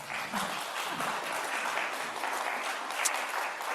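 An audience applauds, a dense, steady patter of many hands clapping that holds at an even level throughout.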